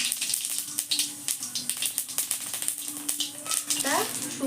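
Whole cumin seeds hit hot oil in a wok, sending up a crackling sizzle with rapid pops and spits throughout, close and fairly loud, while a person talks over it.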